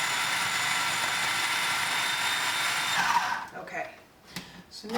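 A kitchen blender whirs steadily and loudly while blending vegan cheesecake ingredients such as cashews, then winds down and stops near the end, leaving brief quieter handling sounds.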